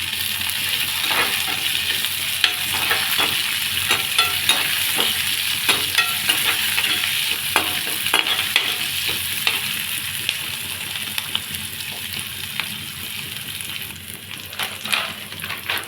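Cumin and coriander stems frying in a pan for dondakaya pachadi, a steady close hiss of sizzling oil with scattered crackles and occasional stirring scrapes.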